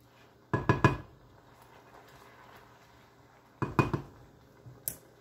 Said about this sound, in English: we're just going to stir it up here until that sauce kind of thickens up.